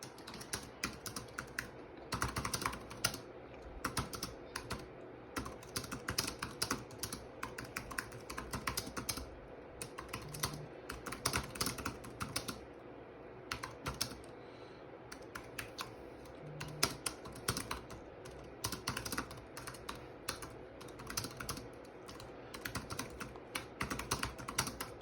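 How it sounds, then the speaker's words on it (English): Steady typing of an email on a computer keyboard, quick clusters of key clicks with brief pauses, close and fairly quiet. "Next, I will be typing what my request is"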